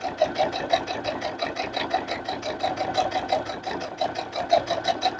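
A sewing machine stitches a potholder in fast, even bursts of mechanical clatter, a steady close-up rhythm with no talking.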